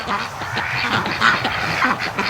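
A large flock of farm-raised ducks quacks continuously, many overlapping calls forming a busy, steady chorus close by with no talking.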